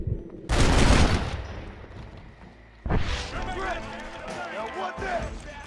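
Rapid pistol gunshots from Red Dead Redemption, loud broadband blasts up close, with a dense burst early on and a second flurry of shots after a brief lull, mixed with background game noise.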